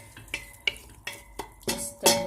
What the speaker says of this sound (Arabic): راني قلي البصل كي دويازير